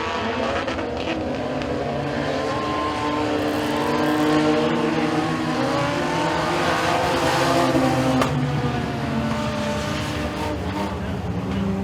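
Race cars battling side by side for the lead on the final lap of a heat at Eriez Speedway, engines roaring loud and continuous with rising and falling revs and a crowd-like wash beneath.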